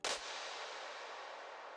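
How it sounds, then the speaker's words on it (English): Pitched clap sample from an electronic beat, a single sharp clap hit followed by a short noisy reverb tail that decays over under two seconds, heard alone. "And of course, we got the clap,"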